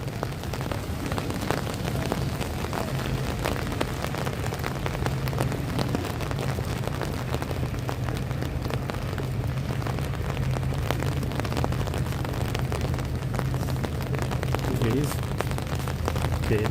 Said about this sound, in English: as you can hear now, the rain it's getting heavier on the umbrella